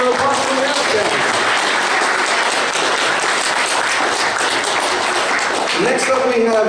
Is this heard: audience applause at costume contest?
yes